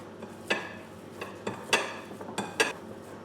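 Chili pepper is mixed into sausage meat in a bowl, giving a series of soft, irregular clinks and scrapes of utensil against bowl, about five or six distinct knocks at close range in a quiet room.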